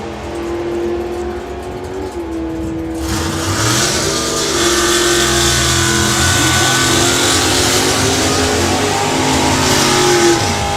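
A drag racing car screams down the strip at a Brighton Seafront sprint event, its engine building from a rising whine into a loud, sustained roar that holds for several seconds, with no talking.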